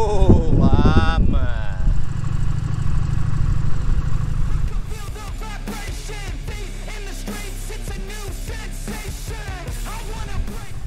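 A motorcycle engine idles with a steady low throb that runs throughout, while loud voices and a shout ring out early and lighter chatter continues over the engine.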